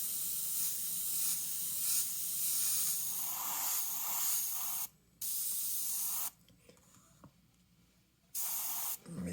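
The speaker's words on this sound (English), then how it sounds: "I'm going to spray heavier at the top so you can kind of see the color change over" An aerosol can sprays chrome yellow paint onto a Mustang model in short and long hissing bursts, with clear pauses between them, close and steady, with no talking.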